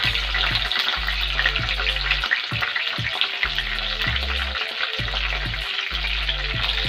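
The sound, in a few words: cut dried red chillies frying in pan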